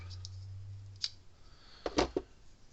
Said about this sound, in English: So we're gonna cut about there.